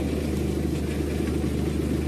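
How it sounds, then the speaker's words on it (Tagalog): A Mitsubishi L300 van engine runs with a smooth, steady low hum, close by and without any revving or other sounds. "Tapos yung makina sobrang tahimik."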